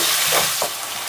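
Ginger paste frying in a pan for egg masala, a loud continuous sizzle with a couple of quick scraping strokes as it is stirred, all within about a second.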